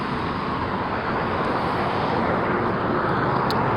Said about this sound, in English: Let me stay out of traffic here so it's not so loud.